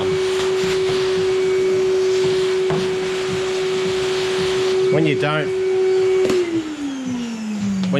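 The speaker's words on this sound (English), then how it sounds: "I've got this Bunnings wet dry vacuum cleaner" A Bunnings wet/dry vacuum cleaner runs in a shed with a steady, loud droning hum that drops in pitch near the end, while a person speaks briefly over it.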